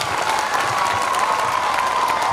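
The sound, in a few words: audience applause for the teachers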